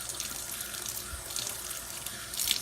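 Warm tap water runs steadily into a sink while a Staalmeester oval paint brush is rinsed, a close continuous splashing rush with small shifts as the flow is disturbed, no talking.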